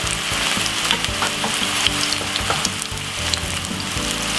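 Garlic and spring onion frying in a pan for a cabbage and corned beef dish, a steady close sizzle with soft crackles and occasional stirring scrapes throughout, no talking.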